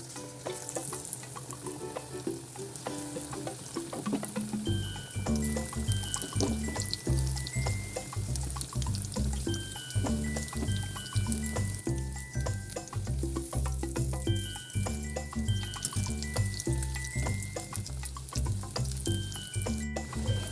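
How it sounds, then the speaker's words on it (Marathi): Chilli bhaji, battered chillies, sizzle and bubble in hot oil for Mumbai street-style fritters, a continuous crackling fry with gentle stirring and scraping sounds close by. "आता हे आपण तेलामध्ये फ्राय करून घेऊया"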